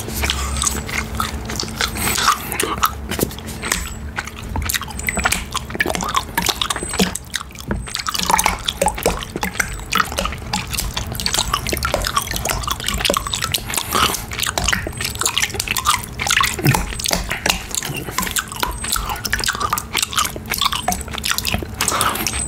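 Water drips and splashes continuously near the microphone during an ASMR water-trigger session, with wet, squishy sounds throughout and no speech.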